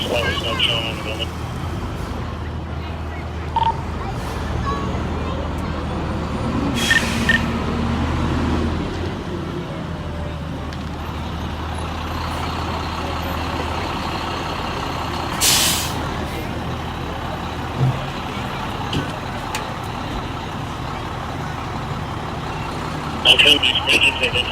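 A fire engine at a working structure fire, with a truck engine rumbling throughout, sharp air brake hisses around the middle and end, and reversing beeps, amid steady traffic noise and people talking over radio.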